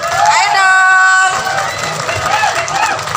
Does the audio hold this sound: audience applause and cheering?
yes